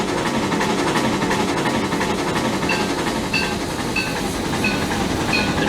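Steam locomotives 290 and 425 running at about 35 miles per hour through a station in Trainz Railroad Simulator 2019, making a steady loud rolling rumble with faint rhythmic clicks and no talking.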